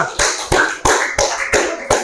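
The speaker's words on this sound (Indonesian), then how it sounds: "Sekali lagi tepuk tangan untuk teman kita kelompok 2" Classmates in a classroom clap for group 2 in a stop-bullying guidance session: six sharp, evenly spaced claps in unison, close and fairly loud, with no talking over them.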